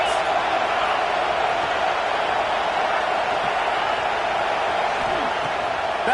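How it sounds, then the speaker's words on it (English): Stadium crowd at a football game against Kansas, a constant loud roar of many voices holding steady without letup, with a commentator talking over it. "This crowd trying to make life miserable for this offense."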